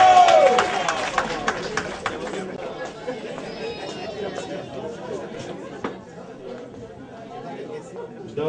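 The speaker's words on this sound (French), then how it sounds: "On applaudit très fort." Audience at a New Year's Eve reconciliation gathering in Guinea Forestière applauding and chattering, a dense wash of clapping and crowd hubbub that swells at first and then settles into steady background murmur.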